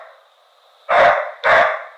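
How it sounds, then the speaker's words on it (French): A pet dog named Bao gives two sharp, loud barks close by, about half a second apart, with no voices. "Ça c'est mon chien."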